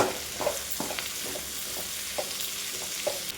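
Boiled raw banana pieces are stirred into a mustard curry in a hot pan, with a continuous sizzle broken by several soft scraping strokes of a spoon at an unhurried pace.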